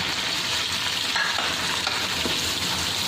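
Soaked rice fries briefly in a pan for black chickpea pulao, giving a dense, steady sizzle with light stirring, close and fairly loud.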